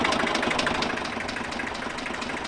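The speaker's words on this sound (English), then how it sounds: "I really like your tractor." A steady tractor engine idles close by, a constant low rumble with a faint rhythmic knock and no voices.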